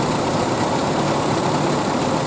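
A Toyota pickup engine from the 1989–1995 range idles steadily with the air conditioning running, a continuous close rumble with a faint rhythmic ticking and no speech.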